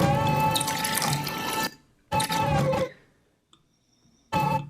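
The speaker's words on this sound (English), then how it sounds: "as it starts pouring, I got liquid pouring with fizz." Liquid pours and fizzes as a sound effect in three separate bursts, each a bright, hissing splash that cuts off abruptly, with short silent gaps and a tiny drip between them.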